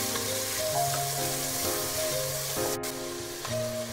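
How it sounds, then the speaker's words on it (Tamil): Chopped onions with fennel seeds frying in hot oil in a pan, a loud continuous sizzle with faint scraping stirs and one brief sharp tick, no voices. "நம்ம வெட்டி வச்சுருக்க வெங்காயத்தை போட்டுடலாம். இது கொஞ்சம் நல்லா வதங்கட்டும்"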